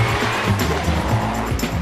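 A rally car at the 2003 Jim Clark Rally overshoots a corner, its engine roaring loud and close with a brief scrabble of tyres over the short burst.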